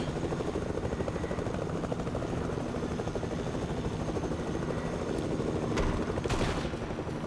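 Continuous rapid thumping of helicopter rotor blades in the video game Fortnite, steady and fairly loud, with a couple of brief sharp bursts near the end.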